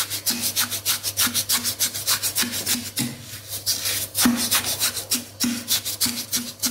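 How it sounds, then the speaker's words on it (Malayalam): A wooden spoon stirs and mashes oranges for homemade wine, making rhythmic, close scraping and squelching strokes that repeat about twice per second with no talking. "എന്നിട്ട് നമുക്ക് ഒരു മരത്തവി കൊണ്ട് ഇതൊന്ന് മിക്സ് ചെയ്ത് കൊടുക്കാം"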